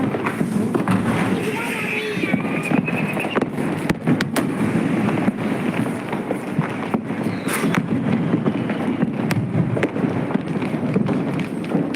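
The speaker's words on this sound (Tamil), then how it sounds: "குட்டி மேடம் பட்டாசு வெடிக்குது." Firecrackers burst in a rapid, crackling string, loud and dense against steady wind-like noise throughout.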